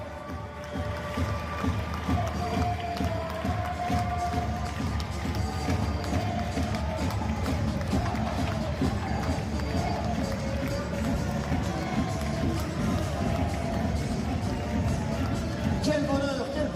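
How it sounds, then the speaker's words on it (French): A large boxing-event crowd cheers and applauds during the boxers' lap of honour, a dense, steady roar of clapping and voices that stays loud throughout, with an announcer speaking over it. "sous vos applaudissements, le tour d'honneur avec les boxers."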